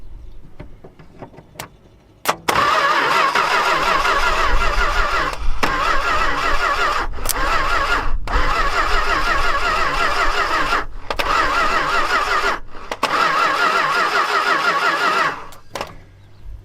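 An old stepside truck's engine cranks over repeatedly without firing, long steady starter bursts separated by brief pauses, loud and close, with no talk.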